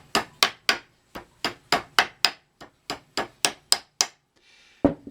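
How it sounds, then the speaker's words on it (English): A hammer taps finishing nails through a wooden drilling jig into the top of a table leg, about fifteen sharp, close strikes in quick uneven bursts with brief pauses, no talking. "banging in the finishing nails"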